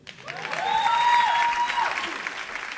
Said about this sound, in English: Can we please have another square of applause, round of applause?